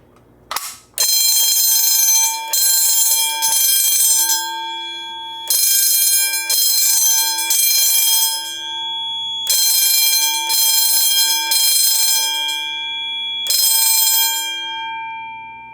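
A Notifier AFP-200 addressable fire alarm system sounds after a pull station is pulled, loud electronic alarm tones blaring in repeated bursts with short breaks between them.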